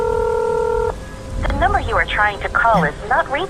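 Telephone dialing tones sound in a horror story, a steady two-tone beep lasting about a second over a low rumble like rain, followed by a voice speaking.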